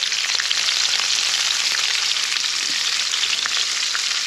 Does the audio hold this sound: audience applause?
no